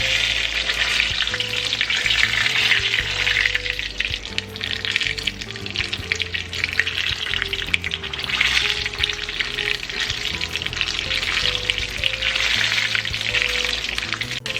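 Tex Mex egg rolls deep-frying in hot oil, a steady dense sizzle and bubbling that runs loud and continuous throughout with no voices over it.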